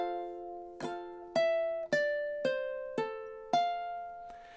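Ukulele phrase from a song played slowly, six distinct plucked notes or small strums at an even pace, each bright attack decaying quickly into a short ring. Close and quiet with no voice.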